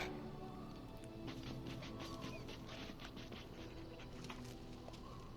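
Dog digging and panting in the Dragon Age Origins video game, a steady scratchy patter of paws in earth with breathy panting, continuous and fairly close over a dense background bed.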